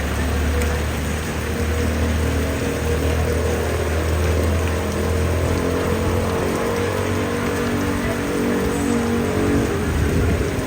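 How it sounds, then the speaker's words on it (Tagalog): Heavy rain pours steadily, a dense, continuous roar with a low rumble underneath, loud and unbroken throughout. "Kusog kayong ulan"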